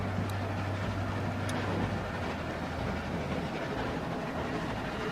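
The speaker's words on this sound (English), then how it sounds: "Stop the train." Train rolling along in The Walking Dead video game, a steady rumbling drone with low mechanical hum and faint clicks, continuous and fairly loud, with no talk.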